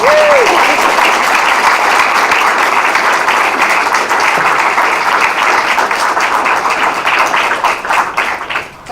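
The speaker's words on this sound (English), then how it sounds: "And now you can applaud." An audience at an Iowa House District 67 candidate forum breaks into sustained, loud applause that fills the room, fading slightly toward the end.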